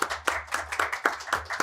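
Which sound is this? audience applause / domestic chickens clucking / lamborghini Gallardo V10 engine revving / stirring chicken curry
audience applause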